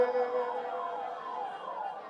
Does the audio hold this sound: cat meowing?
no